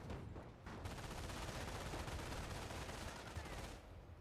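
Machine gun fire in Company of Heroes, a sustained rapid burst of rattling shots after a brief pause, steady and dense at moderate distance until it stops near the end.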